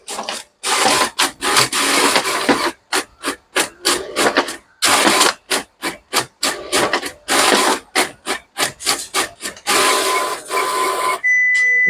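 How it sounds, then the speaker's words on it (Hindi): An ADF-equipped office printer runs pages through at speed, producing a fast series of rhythmic rubbing, whirring feed strokes, loud and close, each pass separated by short pauses, with no talk. "एडीएफ प्रिंटर है ना ये, इसको मैंने यहाँ पे लगा दिया। इसकी भी स्पीड फास्ट ही है।"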